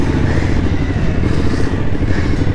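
A convoy of motorcycles sets off together, producing a loud, steady, close engine rumble that fills the whole moment without pause.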